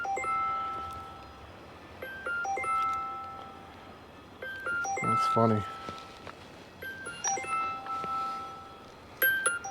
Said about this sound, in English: I have never heard that bell before.